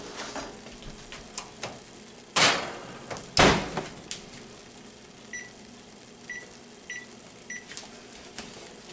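An oven door shuts on a pan of pineapple bars, giving two loud, broad clunks a second apart. Softer clicks and kitchen taps are scattered around them.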